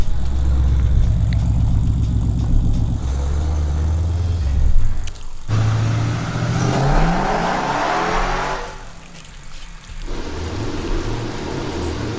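A Hemi-swapped Nissan 350Z on a dyno with stretched stance tires, its V8 revving loud and close in rising pulls that drop back between bursts, with tire roar and squeal mixed in.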